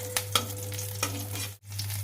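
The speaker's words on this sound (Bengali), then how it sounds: "এটা একটু ভাজা ভাজা হোক" Pointed gourd frying in oil with rubbed nigella seeds and a whole red chilli, a steady close sizzle broken by a few sharp spatula scrapes and stirs.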